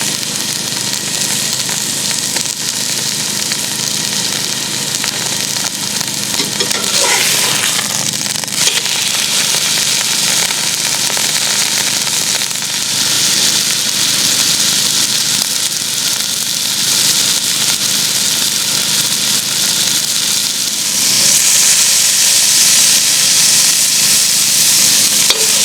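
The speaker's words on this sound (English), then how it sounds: "I'm going to sear this on in the cast iron Dutch oven" A beef roast searing in a cast iron Dutch oven at a campsite, a loud continuous sizzle and crackle of fat that holds steady for about 25 seconds, close up, with no talking.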